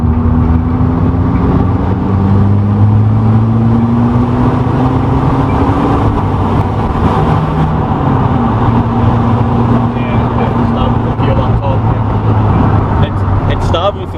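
Ford TX3 Turbo with a B6T twin-cam engine and a small exhaust, running loudly up close with steady engine drone and some revving, while people talk over it.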